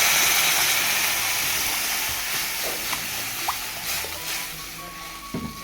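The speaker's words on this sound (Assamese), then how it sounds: "এবাৰ মই ইয়াতে পানী দি দিছোঁ" Water is poured into a pan of fried smoked sun-dried ash gourd, giving a steady broad hiss and sizzle that stays fairly loud throughout, with a few small clinks near the end.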